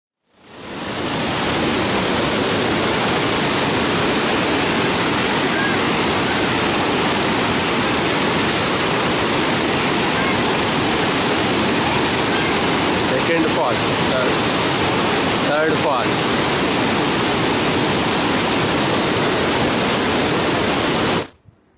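Elephant Falls, a waterfall beside Shillong in Meghalaya, pours with a steady, loud broadband roar of rushing water that fills the scene continuously and alone, with only brief faint disturbances midway.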